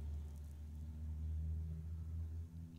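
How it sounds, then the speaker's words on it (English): A loud car passes outside, heard as a low, steady rumble that swells slightly and then fades within a few seconds, with no talking. "there's a loud car going by."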